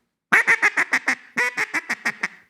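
A handheld duck call sounding a fast run of quacks, about fourteen raspy, nasal notes in two descending bursts, loud and close with nothing else heard.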